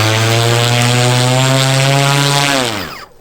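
Propellers of a manned personal drone run loud and steady with a strong droning hum, then wind down and drop in pitch near the end, with no talk over them.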